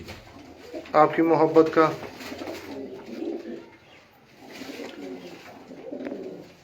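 Sialkoti rooftop pigeons coo softly in low, rolling murmurs beneath someone speaking nearby.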